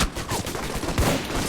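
Rapid turret gunfire in the video game Alpha Protocol, a dense, continuous burst of loud shots with no pause across the clip.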